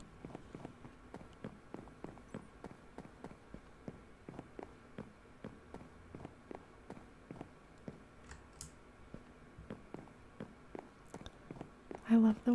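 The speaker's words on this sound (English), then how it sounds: "I love the way that footsteps sound when you're going upstairs" Soft footsteps climb stairs in Minecraft, a steady rhythmic run of quiet taps close by, followed by a louder burst at the very end.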